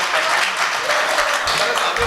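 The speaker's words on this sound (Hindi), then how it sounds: "एक मरतबा जोरदार तालियों से आप इजाजत दीजिए" An audience at a shayari poetry recital applauds in a steady, dense wash of clapping, fairly loud and continuous over two seconds.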